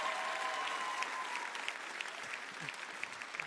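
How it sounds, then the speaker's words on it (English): Mid-monologue applause from an afternoon conference session crowd: a steady bed of many hands clapping at moderate level, with a few sharper individual claps standing out as it slowly thins. "you guys really, really do love to clap, don't you?"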